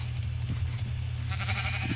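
Sheep in the Minecraft video game bleat in several short, bright calls over a steady low background hum, loud and close with no voices.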